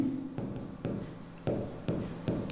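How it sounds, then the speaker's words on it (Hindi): Pen strokes on paper during a class 10 maths lesson on similar triangles, five or six short scratchy bursts in an even rhythm, close and fairly quiet. "हम लिखेंगे"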